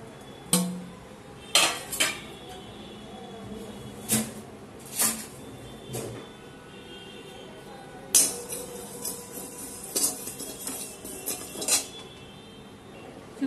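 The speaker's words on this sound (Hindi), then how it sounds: "तो अब मैं सबसे पहले जीरा एंड सौंफ भून लेती हूँ दोनों" Cumin and fennel seeds dry-roasting in a pan for stuffed bitter gourd, with intermittent metallic clinks and scrapes of a spoon stirring against the pan over a quiet background.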